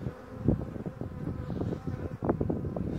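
Honey bees buzzing around an open hive during a spring inspection of the frames, a dense continuous hum with individual bees zipping close past, with light wind noise.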